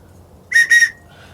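Two short, shrill whistle blasts in quick succession, loud and close, with quiet before and after.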